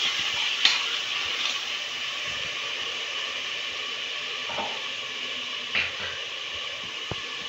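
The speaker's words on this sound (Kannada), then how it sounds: "ಈರುಳ್ಳಿ ಹಾಕ್ಕೊಂಡು ಸ್ವಲ್ಪ ಫ್ರೈ ಆಗಲಿ" Onion paste frying in a pan for chicken gravy, a steady close hiss of sizzling oil with a few faint clicks and stirring taps.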